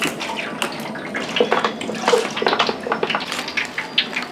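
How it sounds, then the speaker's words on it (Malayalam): Sesame oil pours into a pot while a Kerala-style mango pickle is made, giving a continuous splashing, gurgling stream of liquid with small swells in loudness and no talk. "എണ്ണ അങ്ങോട്ട് ഒഴിച്ചു കൊടുക്കും"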